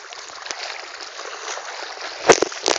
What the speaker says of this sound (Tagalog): tatawid na ako ng ilog. Ang sarap ng tubig